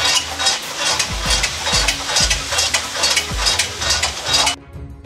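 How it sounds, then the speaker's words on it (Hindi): Tomatoes cook in a kadai for a chicken achari handi, throwing up a loud, close, steady sizzle. Rhythmic stirring scrapes sound through it at intervals, and the sizzle drops off abruptly near the end. "ब्राउन होने के बाद टमाटर कढ़ाई में पड़ गए हैं"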